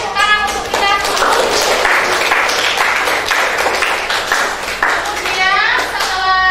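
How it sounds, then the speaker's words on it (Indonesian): Loud group applause with lots of individual hand claps and children's voices and chatter running through it. "Beri tepuk tangan untuk kita semua"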